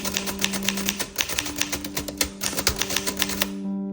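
A 1934 Remington Model 5 manual typewriter being typed on in a steady run of crisp, close key strikes with tonal ringing underneath, ending in a short mechanical clunk and quiet hum.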